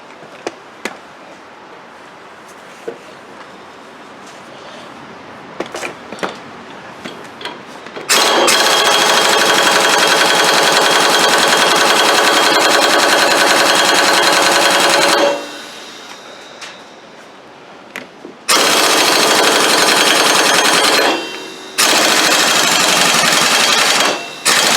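A pneumatic air tool works on a Craftsman drive belt replacement, running in long, loud, buzzing bursts of several seconds each, separated by quiet pauses and a few light clicks.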